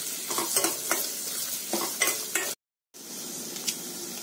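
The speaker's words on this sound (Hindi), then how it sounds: "अब डालेंगे इसमें ये लहसुन, मिर्ची और अदरक और इसको भी 1-2 मिनट भुनेंगे।" Onion, garlic, chilli and ginger fry in a pan for a cashew curry, a steady close sizzle with occasional stirring scrapes, a short gap, then sizzling again.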